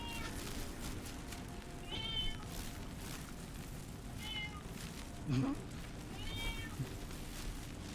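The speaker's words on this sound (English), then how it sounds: "They also meow when it's not their feeding time" Someone's cat meows at feeding time, with several distinct meows spaced a couple of seconds apart over steady background sound and people talking.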